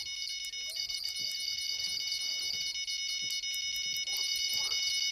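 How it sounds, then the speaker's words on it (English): A fish bite alarm in the fishing video game Fishing Planet beeps rapidly and insistently at a high pitch, loud and continuous, with faint background game noise beneath. "Stop beeping at me!"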